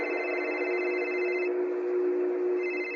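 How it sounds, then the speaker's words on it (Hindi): A mobile phone rings with steady electronic tones, a sustained bright ringtone that briefly changes pitch midway before resuming, close and clear with no talking. "उसी समय समीर का फोन बज पड़ा।"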